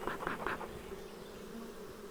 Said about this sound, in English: That's gonna get the bees all stirred up.